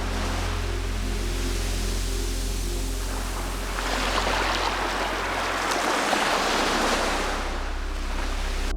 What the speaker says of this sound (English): most of the field recordings I did of the sea lapping against the coast were done after sunset